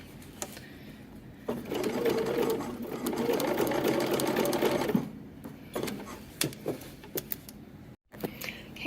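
A sewing machine runs steadily for about three and a half seconds stitching a dress seam, close and fairly quiet, followed by light clicks and fabric handling with no talk.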